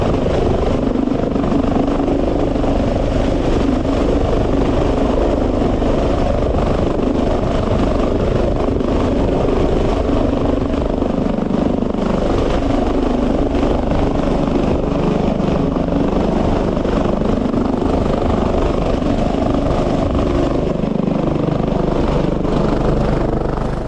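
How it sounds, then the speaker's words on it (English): A police helicopter in Chile hovers and sets down on a cliff edge, its rotor and engine thrumming continuously and loudly at close range with steady wind buffeting, no voices. "A Chilean police pilot displayed incredible precision by maneuvering a helicopter onto the edge of a cliff"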